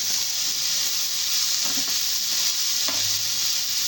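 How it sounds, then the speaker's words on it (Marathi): Tomatoes frying in oil and masala with a pinch of salt for modak aamti, giving a constant even sizzling hiss, with a couple of soft stirring scrapes near the end and no speech. "मस्त मिक्स करून घ्यायचं आणि परतून द्यायचं चांगलं या मसाल्यामध्ये"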